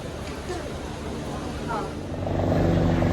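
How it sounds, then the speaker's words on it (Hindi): Helicopter flying from Kedarnath toward Guptkashi over the mountains near Sonprayag, a steady engine and rotor drone that swells louder toward the end, heard under faint background voices. "अब यहाँ से देखेगा हेलीकॉप्टर जो कि आ रहा है केदारनाथ से और जाएगा गुप्त काशी"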